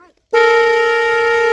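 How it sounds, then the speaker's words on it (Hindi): A vehicle horn blares loudly and steadily, one sustained honk starting abruptly after a brief fragment of voice and continuing unbroken to the end. "इनको हॉर्न बजाने में बड़ा मजा आ रहा था"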